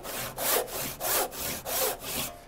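A hand saw with few teeth per inch cuts a wooden tenon in fast, even back-and-forth strokes, about eight rasping pulls in quick rhythm, close and clear with no talking.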